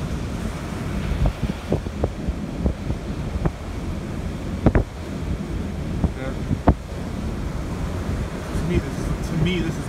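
Rough, heavy ocean surf pounding a beach under strong wind, a steady loud roar with gusty microphone buffeting and occasional sharper crashes, continuous throughout.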